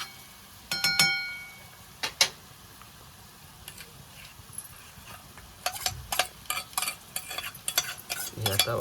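Coconut masala paste and onion frying in a pan for a crab curry, with scraping stirs and soft sizzling, plus sharper clatters near the start and a busier burst of stirring toward the end.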